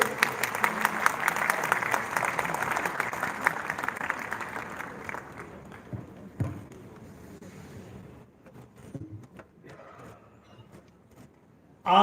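An audience applauds to welcome a speaker at a Lohri and Makar Sankranti gathering, dense clapping that thins out after about five seconds into scattered claps and room noise, with a loud bump at the very end.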